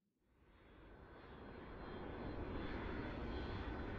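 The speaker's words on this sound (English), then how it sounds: "Cleared for takeoff." A plane taking off in the video game Mini Airways, its engine roar swelling steadily from quiet to a loud sustained rumble, heard alone.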